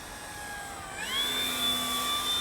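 A Dynam Hawker Hurricane electric RC warbird flies an approach, its motor whining steadily and then rising in pitch and loudness as the plane comes nearer, with the tone sliding smoothly throughout.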